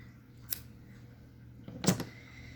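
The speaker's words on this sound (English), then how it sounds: "So let's go ahead and snip off our tails." Scissors snip off crochet yarn tails on a small crocheted heart: two brief, quiet cuts about a second apart over a faint room hum.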